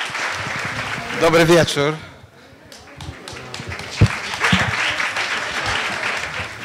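A lecture audience in Warsaw applauds to welcome an architect, dense clapping that fades out after a couple of seconds, after which a voice speaks over renewed, quieter applause.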